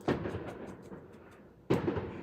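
Fireworks bursting outside during a display, two sharp loud bangs at the start and near the end with a rumbling, crackling tail trailing between them, heard from a distance.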